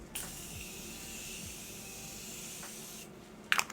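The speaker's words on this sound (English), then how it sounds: "So I'm gonna spray my face with the Morphe Continuous Setting Spray" A long, soft hiss of Morphe Continuous Setting Spray mists onto a face for about three seconds, close and quiet, followed by a couple of faint clicks.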